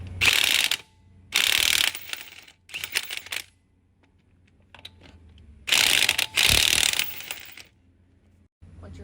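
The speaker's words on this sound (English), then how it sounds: "First thing I'm going to use is my impact wrench. Loosen these lug nuts, which are a 22-inch nut." An impact wrench loosens the 22 lug nuts on a front wheel of a 2001 Chevy Silverado 1500 2WD, firing in four loud, close, rattling bursts separated by quieter gaps.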